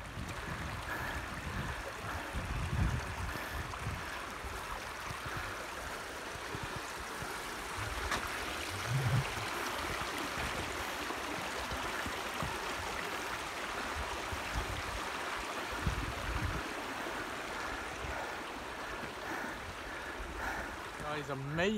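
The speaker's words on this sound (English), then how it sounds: "You can hear the river running" Steady rushing of a river on the Isle of Arran, heard from a bridge, a continuous broadband wash of running water with occasional louder splashes throughout.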